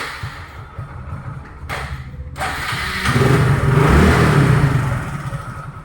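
A 2016 Hero Glamour motorcycle engine runs steadily, then revs up louder around the middle before easing back down, close by with no talking.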